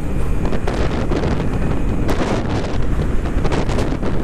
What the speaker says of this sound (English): Oh, it's windy. Got crosswind.